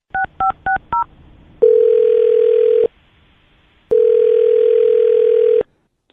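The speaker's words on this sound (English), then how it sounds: "I'm going to dial her phone number right now" Four short touch-tone beeps of a number being dialed, followed by two long, steady ringback tones separated by a pause.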